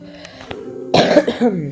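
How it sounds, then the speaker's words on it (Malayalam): A single harsh cough, close and loud, follows a few faint breathy sounds, with a short rasping tail. "ചുമയാണ്, എനിക്ക് വയ്യ"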